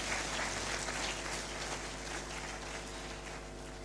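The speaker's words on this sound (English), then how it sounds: "A better round of applause for the Chief Justice." A round of applause for the Chief Justice at the Supreme Court 150th anniversary event, a full crowd clapping steadily at fairly constant level for a few seconds.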